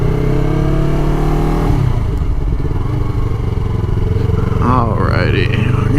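A motorcycle engine roars loudly and continuously as it is given throttle, with a rising, sweeping whine near the end. A voice talks over the engine.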